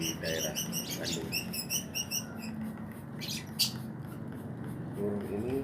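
Greater green leafbird from Jember, East Java, a week-old mimic, chirping in repeated high bright bursts with quick tweets, some overlapping, against a steady low room hum.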